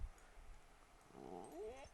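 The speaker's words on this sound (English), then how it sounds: "And that was my dog in the background." A dog growls and whimpers softly in the distance, a faint rising whine over a quiet background.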